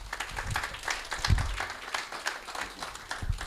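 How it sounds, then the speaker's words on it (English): Applause from the audience at a UK-Kenya business mission event, a patchy, fairly quiet spatter of clapping at mid distance with uneven bursts and no voices over it. "A round of applause again, please"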